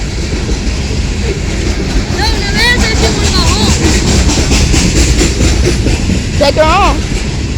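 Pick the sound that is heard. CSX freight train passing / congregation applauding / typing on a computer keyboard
CSX freight train passing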